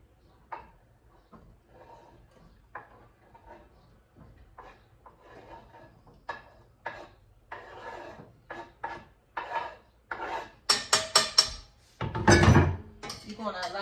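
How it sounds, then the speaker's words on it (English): A spoon scrapes and stirs strawberries and sugar simmering in a cooking pot, short rubbing strokes coming in irregular bursts that grow louder and quicker, close by, ending in a brief hissing sizzle. "Make sure you constantly stir it because you do not want it to burn."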